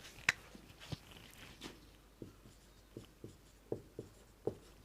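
Pen or chalk writing notes during a chemistry lesson: a series of short, faint scratching strokes and taps in an irregular rhythm, close and quiet, with no talking.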